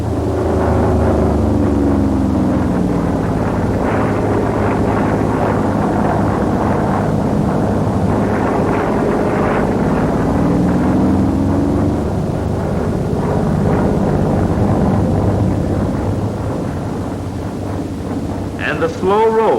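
An F4U Corsair's piston engine drones steadily through an Immelman at about 210 knots, with the pitch rising and falling as the aircraft climbs and rolls, heavy wind rush over the microphone, and a voice speaking throughout.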